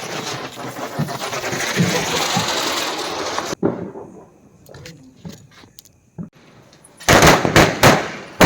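Diwali firecrackers burst nearby. A dense crackling string rattles for several seconds, then scattered pops follow and a second loud burst of cracks comes near the end.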